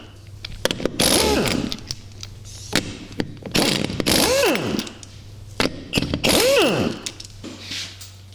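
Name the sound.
3/4 inch impact gun removing a golf cart wheel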